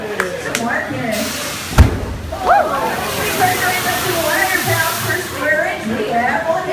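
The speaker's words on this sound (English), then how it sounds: "Some water cannons." Water cannons blast spray in a theme park special effects show on a studio backlot tour, a steady sloshing hiss running throughout, with a sharp splash burst near two seconds and a crowd voice heard faintly beneath.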